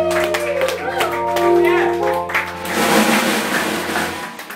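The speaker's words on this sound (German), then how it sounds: "Einen großen Applaus bitte" Audience applause at a live Hammond organ jazz concert in a club, clapping building over a sustained organ tone and voices, then swelling into denser, louder applause toward the end.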